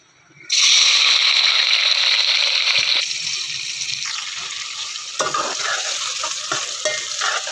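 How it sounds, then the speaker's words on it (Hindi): Onions dropped into hot oil for beef degi korma burst into a loud, sudden sizzle that starts abruptly and then settles into a steady, bubbling fry with occasional crackles and spatters. "तो ऑयल हमारा अच्छे से गर्म हो गया है, तो अब हम इसमें डाल देंगे जनाब अली प्याज"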